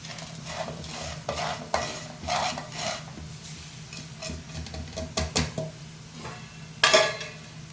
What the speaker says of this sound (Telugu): కాకరకాయ ముక్కలు వేగినాయండి